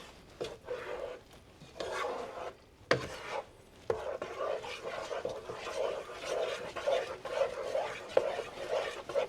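A spoon stirs a thick shepherd's pie mix of hot water and cheddar cheese powder, scraping and squelching in a steady repeating rhythm with a couple of sharper knocks against the container, close and moderately quiet.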